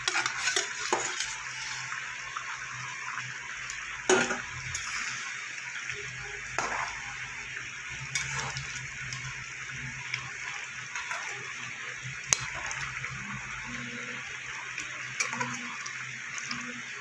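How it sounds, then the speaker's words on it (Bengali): Rohu fish pieces going into a pan of boiled potatoes in a Bengali fish curry, with steady low sizzling, soft stirring and occasional sharp clinks of utensil against the pan. "এবার আমি মাছগুলো দিয়ে দেবো"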